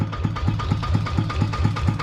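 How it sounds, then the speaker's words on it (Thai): A tractor engine chugs steadily nearby with a regular low knocking rhythm, rumbling without pause. "ก็พอดีรถไถเข้ามานะ"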